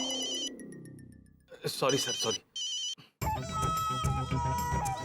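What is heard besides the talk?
phone ringtone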